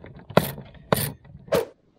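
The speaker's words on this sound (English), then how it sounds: "we gotta get rid of these two 7mm bolts that hold this trim piece on" Three quick ratchet bursts, a spaced clicking rhythm from a ratchet backing out 7mm bolts on a trim panel under a Chevrolet Trailblazer dashboard, close and alone without talk.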